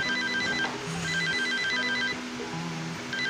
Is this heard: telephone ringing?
yes